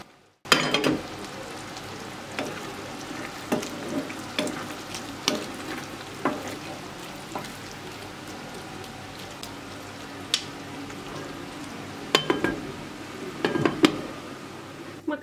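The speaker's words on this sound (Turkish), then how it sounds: "Ara ara karıştırarak kapağı kapalı bir şekilde pişireceğim." Pasta simmering with little water in a covered pot over low heat, stirred now and then: a steady soft bubbling hiss broken by occasional clinking, scraping stirs, close by with no talk.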